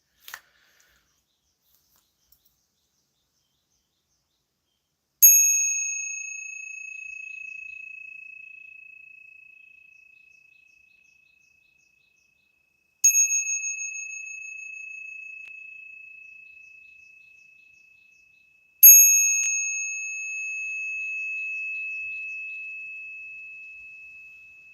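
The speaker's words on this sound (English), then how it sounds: "Let's hear a sound of the bell." A meditation bell rung three times during a dharma talk, each stroke ringing out alone in silence with a bright, sustained tone that fades slowly before the next.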